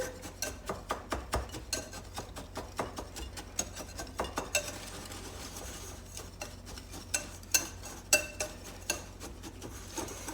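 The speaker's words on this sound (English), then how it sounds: "we're just gonna kind of whisk these together, break up the lumps on the brown sugar." Brown sugar and other ingredients are whisked together in a bowl, the whisk clicking and scraping against the sides in a quick, uneven rhythm, close and moderately loud with no talking.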